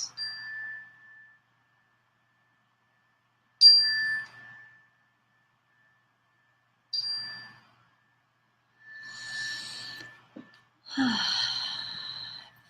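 A soft meditation bell is struck three times, a few seconds apart, each tone ringing out and fading; quiet breathy rustling follows near the end.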